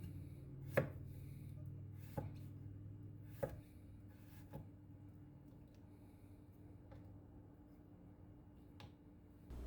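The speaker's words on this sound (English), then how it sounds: "I cut up the celery root as best as I could into wide pieces." A knife chops celery root into wide pieces on a cutting board, giving a few sparse, sharp cuts spaced irregularly over a low steady room hum, fairly quiet and with no talking.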